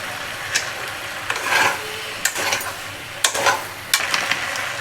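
Mixed vegetables with two kinds of dry fish frying in a pan and being stirred, with a constant soft sizzle broken by repeated scraping strokes of the spoon at irregular intervals, close by and without talk.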